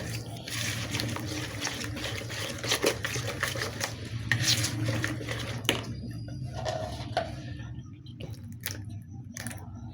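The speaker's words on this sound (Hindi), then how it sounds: "और तमाम मसाले को यहाँ पर हम अच्छी तरह से मिक्स कर लेंगे।" Spices being mixed by hand in a bowl for masala fish fry, soft wet squishing and stirring sounds, close and fairly quiet, continuing steadily with brief pauses.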